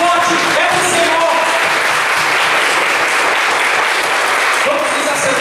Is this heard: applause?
yes